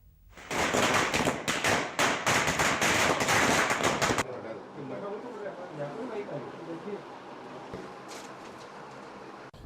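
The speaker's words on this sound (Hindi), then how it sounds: "लोगों ने पटाखे बजाकर खुशी मनाई।" Firecrackers burst in a celebration after an Indian election candidate announcement in Bhilwara: a dense, loud crackling string of rapid pops for several seconds that cuts off into a fainter, scattered background clatter.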